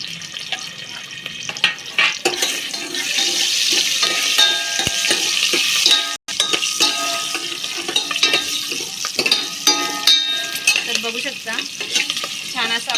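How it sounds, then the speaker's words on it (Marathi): Green chilies, peanuts and cumin frying in a pan, loud close crackle and spitting oil with busy clattering stirring throughout, broken by one abrupt brief dropout midway. "आपल्याला फ्राय करून घ्यायचं आहे आता हे हिरवी मिरची आणि शेंगदाणे आणि जिरं"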